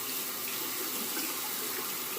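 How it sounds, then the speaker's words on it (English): Running water from a tap pours steadily as a shaving razor is rinsed under it, a continuous close hiss filling the short stretch with no talk. "Gonna rinse again."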